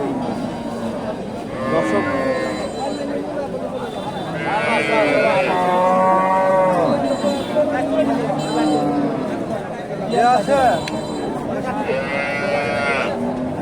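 Cattle mooing repeatedly amid a busy livestock market crowd in Bogura, Bangladesh, with people talking throughout.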